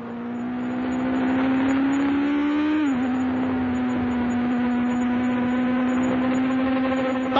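The steady, high-pitched whine of Formula One engines as Reutemann's Ferrari dives inside Andretti's Lotus, one sustained note that dips briefly and then holds, loud and continuous with no voices.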